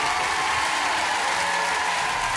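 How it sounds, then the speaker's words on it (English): A talent-show audience applauds, producing a brief, loud, even wash of clapping from a large crowd with no break. "Everyone give David a round of applause."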